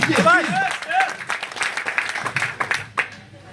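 Applause for Hafez Nizamuddin at a morning gathering: a voice speaks briefly at first, then scattered clapping from the crowd rises and thins out toward the end.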